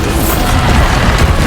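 Bombarda blasting spell going off during a duel in Hogwarts Legacy, a continuous loud rumbling boom with crashing debris and dense low-end roar throughout, no voice over it.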